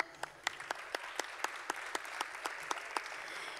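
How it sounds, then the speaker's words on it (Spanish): An audience claps steadily after a folk dance performance at a folkloric festival, a dense, even patter of applause with a few sharper individual claps standing out, no talk over it. "Un aplauso."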